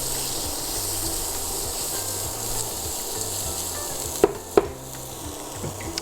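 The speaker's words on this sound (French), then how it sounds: "Je le laisse rôtir une petite minute" Pearl barley toasting in fat in a pan for a risotto, a steady, gentle sizzle with faint crackles throughout and two sharp clinks of a utensil near the end.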